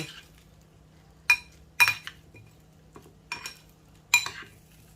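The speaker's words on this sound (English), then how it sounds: "Keep turning them, tossing them around so they're evenly coated as well with the oil" Potatoes coated in oil with garlic and herbs are tossed around in a dish, producing a few scattered clinks and scrapes of a utensil against the container, close and sporadic over a quiet background.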